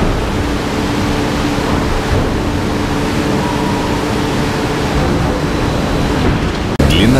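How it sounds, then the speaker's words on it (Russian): A high-pressure water descaler blasts water at over 200 atmospheres onto a rail blank in a rail rolling mill, a loud, unbroken hiss and roar that ends with a sharp knock near the end. "Данная установка набором воды свыше 200 атмосфер удаляет окиси металла с поверхности заготовки"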